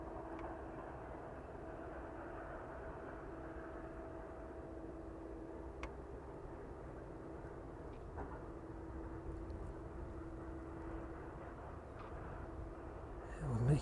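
An aircraft descends toward the runway at East Midlands Airport. A steady, broad jet drone with a low hum holds throughout at moderate distance, with a brief louder swell at the very end.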